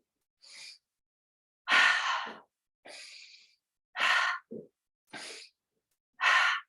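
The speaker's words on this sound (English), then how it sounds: "So you breathe in the other side." Breathing exercise in a yoga session, breathing in through one side: six separate breaths, sharp inhales and longer sighing exhales, close and clear with silence between them.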